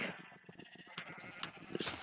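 Minecraft sheep bleating in a survival world, a short faint bleat amid soft game ambience, with no talking over it.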